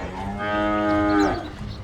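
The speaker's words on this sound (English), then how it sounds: "Good to see both teams mooing their hearts out as well." A cow moo taunt in a competitive esports video game match, heard as one long, loud, drawn-out bovine moo of almost two seconds with a rich, steady tone that swells and then fades.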